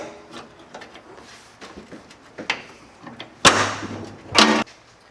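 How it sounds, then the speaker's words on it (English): Hood of a 1974 Ford truck being opened: scattered small metallic clicks and rattles, then two loud sharp clanks of the latch and hood, close and unaccompanied by talk. "this is how we have to open the hood down"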